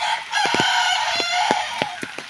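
A rooster in a flooded area of Kozhikode crows loudly and close by, its long call rising and holding, with a few sharp clucks or knocks punctuating it.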